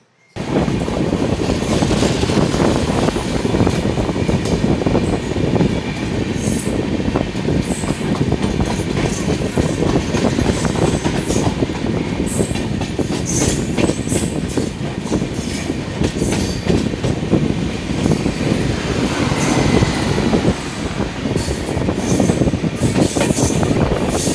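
The Saraighat Express between Guwahati and Howrah runs at speed, heard from inside with a loud, continuous rumble and rhythmic wheel clatter over the rails throughout.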